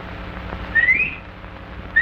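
Rising whistles, two sharp upward-swooping tones close together and another starting at the end, over a quiet room hum.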